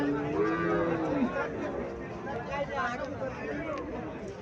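Cows low in the middle of a busy cattle fair, one long moo rising early on, set under steady crowd chatter and people talking close by.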